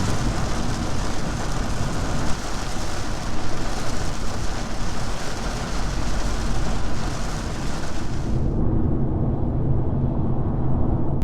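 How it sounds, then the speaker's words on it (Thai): Heavy rain pours steadily near a seaside hotel in Hua Hin, Thailand, a dense continuous wash of noise that stays loud throughout, with part of the high hiss dropping away near the end. "วันนี้ก็ไม่นึกว่าฝนจะตกนะ"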